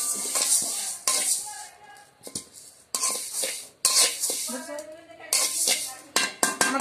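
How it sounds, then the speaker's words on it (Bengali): Moong dal lentils being dry-roasted in a pan, with a string of scraping, clinking strokes as the grains are stirred, loud and close, with short pauses between stirs. "আমি ডালটা ভেজে নিচ্ছি। ডালটা আমি খুব বেশি ভাজবো না"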